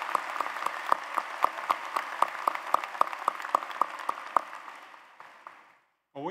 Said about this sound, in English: Won't you join me in another round of Knights applause for Dr.